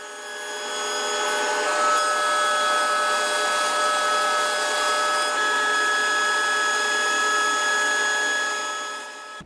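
Thickness planer running a reclaimed fir board through, a loud continuous whining roar with steady tonal hum that starts up, holds for several seconds and tapers off at the end.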